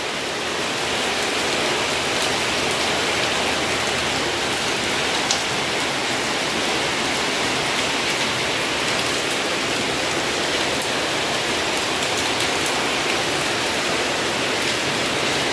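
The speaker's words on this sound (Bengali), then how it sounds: "আবার সেই মুষলধারে বৃষ্টি, ঝমঝম করে বৃষ্টি হচ্ছে" A heavy downpour of rain roars steadily and evenly, a dense, continuous hiss of drops hitting surfaces all around. No voices are heard.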